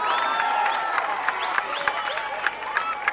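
Crowd clapping and cheering at a public political rally, a dense outdoor wash of applause with scattered whistles and shouts and voices mixed in.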